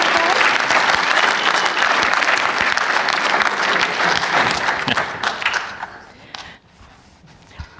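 Loud, sustained audience applause fills a 2019 conference hall as a panel is welcomed to the stage, holding steady for several seconds before thinning into scattered claps and fading out.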